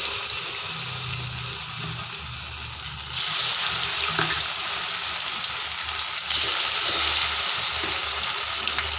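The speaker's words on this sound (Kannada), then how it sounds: "ಆಯಿಲ್ ಕಾದಿದೆ ಇವಾಗ ಇದಕ್ಕೆ ಇವಾಗ ನಾನು ಕಬಾಬ್ ಹಾಕ್ತಾ ಇದ್ದೀನಿ" Marinated garlic and curry leaf kebabs drop into hot oil over a low flame, a steady frying hiss that jumps louder in two distinct steps as more pieces go in, with faint pops and no speech.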